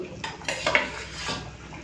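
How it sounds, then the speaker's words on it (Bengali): Fried brinjal pieces drop into fish curry in a pan with a few quick clattering knocks of utensil on metal and a soft wet shuffle, close and brief. "এখন দিয়ে দিচ্ছি ভেজে রাখা বেগুন"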